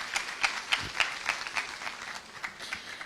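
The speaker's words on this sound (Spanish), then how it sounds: "Aplaudimos, por favor." At a nutritionists' scientific congress, a modest audience gives light applause: scattered claps with a few sharper individual hits, fairly quiet and thinning out toward the end.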